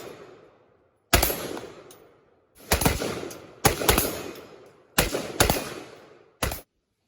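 Tavor X95 rifle fires about seven sharp, loud shots outdoors, some in quick pairs, with pauses between and short echoing tails.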